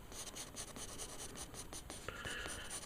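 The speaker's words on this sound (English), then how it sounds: "Just drawing the initial design" Pencil scratching across paper while sketching a skeletal creature design, a Feeder Necromorph from Dead Space, as a soft, steady run of close strokes with a brief firmer stroke near the end.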